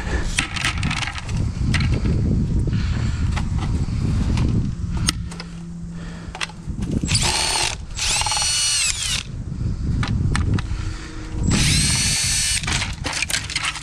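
Power drill backing screws out of the plastic shroud on an AC unit being scrapped, several short bursts of loud whirring with rattling, clattering parts between them, up close.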